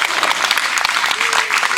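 Concert crowd at an outdoor kids' festival applauding the sound engineer, a short burst of dense clapping from many hands, loud and continuous.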